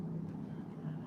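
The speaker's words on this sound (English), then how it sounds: "That's a plane." Faint, distant low drone of an airplane circling overhead, a steady rumble with no voices.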